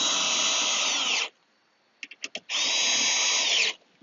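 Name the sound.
power drill tightening screws on soft top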